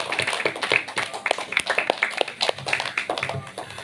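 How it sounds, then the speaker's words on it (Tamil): Clapping from a modest gathering honouring elders at a monthly Saturday worship service, distinct individual claps in a loose, uneven rhythm, close and fairly loud. "அவங்களுக்கு ஒரு கைத்தட்டு கொடுங்க, வாழ்த்துக்கள்."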